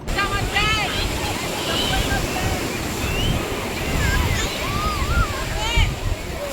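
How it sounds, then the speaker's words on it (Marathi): Sea waves wash continuously onto the beach at Uran with a steady broadband roar and gusts of wind noise, while people's voices and faint higher calls sit partly under the surf. "आम्ही समुद्रावर आलो तर खूप छान इथे आल्यावर वाटतं"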